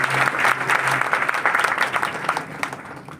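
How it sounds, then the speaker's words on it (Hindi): A church congregation claps to welcome a sister, giving a burst of dense, lively applause that fades slightly over a few seconds, with no talking over it. "उनके लिए एक बार सभी लोग ताली से स्वागत कीजिए"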